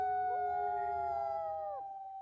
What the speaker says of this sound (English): as you erupt in a howl to respond